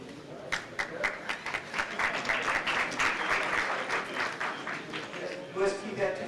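A room of people gives a round of applause at a motivational academy event, sustained hand clapping that swells and holds, with voices mixed in near the end.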